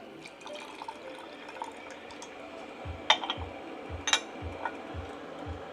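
Water trickling and dripping over tea leaves in a quick rinse, with a few brief bright splashes and soft ticks above a low steady background hum; no one speaks.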